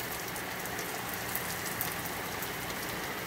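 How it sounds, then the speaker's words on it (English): Heavy rain pours steadily outdoors in Conover, North Carolina, a dense, unbroken hiss of drops striking surfaces with no voices over it. "Very heavy rain again."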